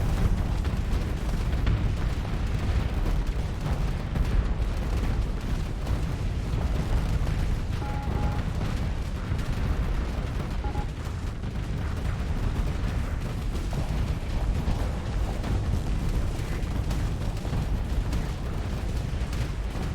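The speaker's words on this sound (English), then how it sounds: "A properly detonated Titan would have a much larger explosion, but in this case it was destroyed before it detonated." Dense, sustained roar of explosions and weapons fire from a space battle in the game Starsector, with a Titan ship blowing up among continuous booming detonations, loud and steady throughout with no speech.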